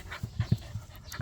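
A puppy pants close by in quick, uneven huffs, several breathy bursts in a row with no talking.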